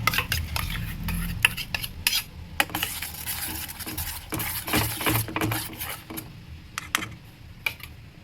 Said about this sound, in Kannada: ನೀರನ್ನ ಆ್ಯಡ್ ಮಾಡಿದ್ಮೇಲೆ ಚೆನ್ನಾಗಿ ಮಿಕ್ಸ್ ಮಾಡೋಣ.